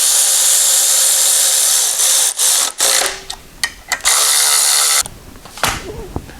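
Bolts are run into a motor mount for a 4BT engine swap in a Jeep JK with a power tool, loud whirring bursts with short stops between them, ending in a quieter tail.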